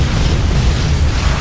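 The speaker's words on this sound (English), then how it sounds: "Lobbing some grenades into the upper level." Heavy, continuous low booming rumble of grenade blasts in Unreal Tournament 3 on the Downtown map, loud and dense across the whole moment with no voices over it.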